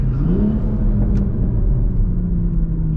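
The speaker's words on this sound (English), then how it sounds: "those little burbles that comes from factory when you're in sport mode" A manual MK5 Supra engine idles in sport mode with a low, steady rumble and deep burbling exhaust note from the factory exhaust, loud and close, with no talking.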